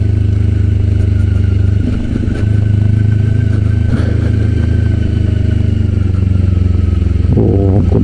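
A Kawasaki Ninja 250 motorcycle being ridden in low gears on a mountain touring road, its engine droning loud and close with a steady buzz and clattering mechanical texture, rising briefly near the end as it revs.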